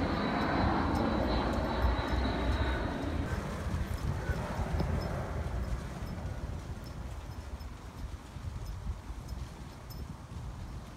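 An airplane flies overhead above an outdoor alleyway garden, its engine a steady, broad roar that fills the whole stretch and eases slightly as it passes.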